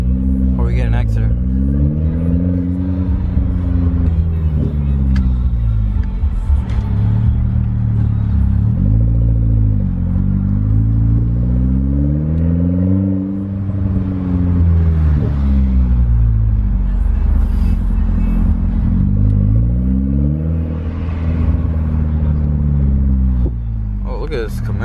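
Mitsubishi Lancer engine revving up and down in repeated sweeping waves, loud and close, with a steady rumble underneath for the whole stretch.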